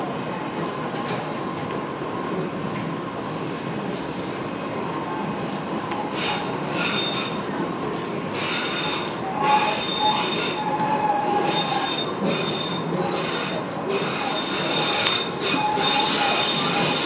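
An MBTA Red Line subway train rides between Harvard and Alewife, its wheels squealing loudly in sustained high metallic whines over a constant rumbling roar of rail noise.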